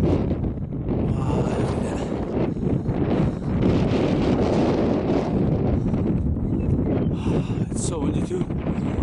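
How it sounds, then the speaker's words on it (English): Strong wind sweeps along the Pacific Crest Trail toward Eagle Rock, California, roaring and buffeting the microphone in a loud, continuous rush for the whole stretch, with muffled talk partly buried beneath it. "It's so windy too."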